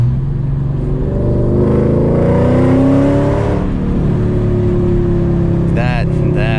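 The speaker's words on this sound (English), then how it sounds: "First POV with long tube headers, 82mm throttle body. This car sounds amazing." A Mercedes E55 AMG V8 with long-tube headers and an 82mm throttle body revs from inside the car. The deep exhaust drone is loud and continuous, rising in pitch as it accelerates, then settling back.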